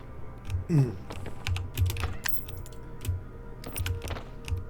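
Keys clatter on a computer keyboard during PC gameplay of a stealth shooter, a quick irregular patter of close clicks over low game sounds and a brief murmur of voice.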